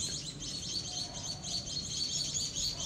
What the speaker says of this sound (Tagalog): Oh, daming ibon ah.